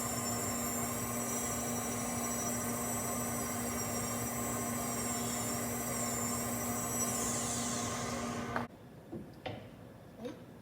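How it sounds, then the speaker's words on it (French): A dental laboratory grinder grinds beneath a prosthetic denture tooth, producing a loud, steady high-pitched whine with a bright tonal hum that slides in pitch and then cuts off abruptly, followed by a few light taps. "je vais meuler sous la dent prothétique pour pouvoir mieux positionner la dent"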